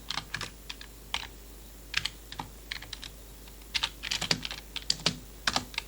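Typing on a computer keyboard while building a web popup, quick irregular bursts of close clicky keystrokes with brief pauses between words, heard alone.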